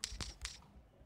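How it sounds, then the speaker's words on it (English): Typing on a phone's Gboard keyboard on Android, three quick, crisp taps in the first half second, close and faint, followed by quiet. "So I am just typing like Google"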